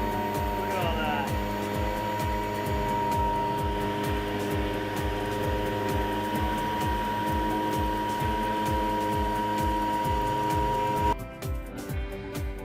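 A Riccar cordless vacuum runs continuously over carpet, a loud steady motor whine with rhythmic pulsing as it is pushed back and forth, then changes near the end as it is moved or switched.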